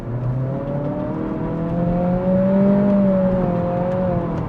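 A 2026 Acura Integra A-Spec Tech accelerating hard off the line, the engine note rising steadily through the gears with quick shifts and a smooth whir, fairly close and loud with no talking.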